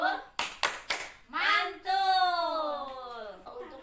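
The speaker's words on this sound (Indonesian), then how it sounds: "Tepuk mantul sekali lagi, Bu. Tepuk mantul." A group of adults in a parenting class claps a quick rhythmic pattern of four sharp beats, then voices chant together loudly and close by.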